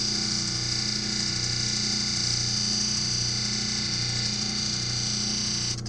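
Lapidary cabochon grinder wheels spin steadily while their surface scratches are cleaned off, giving a continuous, even motor whine and hum that holds unbroken throughout.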